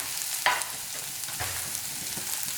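Green peas, carrot, beans and capsicum stirred into oats upma in a pan give a quiet, close frying sizzle with a few soft stirring scrapes, the sharpest near the start.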